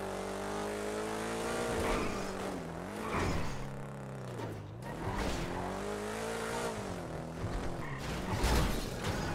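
Car engine in GTA V, driven during a GTA roleplay chase, holds a steady loud drone whose pitch rises and dips repeatedly as it revs and shifts, with no talk over it.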